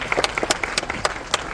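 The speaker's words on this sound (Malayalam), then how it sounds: "give A very big clap" Applause from an event audience for the cameraman of a Malayalam film, a burst of scattered claps and crisp hand slaps across the whole moment, moderately loud and fairly close, with no voice over it.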